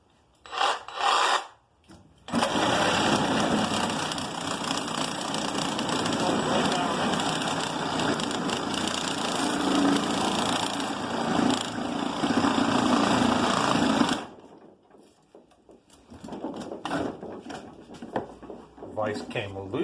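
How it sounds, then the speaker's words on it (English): A Sawzall reciprocating saw cuts through car parts, a loud continuous rasping buzz that runs for about twelve seconds and then stops, with brief bursts before and scraping handling noises after. "I just like to go with the Sawzall."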